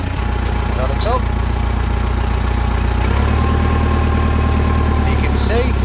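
A Case 895XL tractor engine runs steadily at idle with a deep, continuous low rumble, its pitch and load shifting slightly partway through, while birds chirp faintly in the background.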